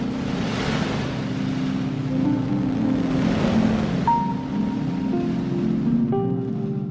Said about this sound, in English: This is what it sounds like on the black hole?